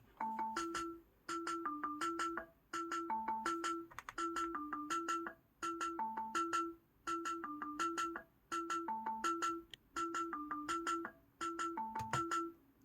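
A djembe rhythm song built in Chrome Music Lab, bright synthetic melody notes and percussion hits looping in steady repeated bars, clear and evenly paced with no voices.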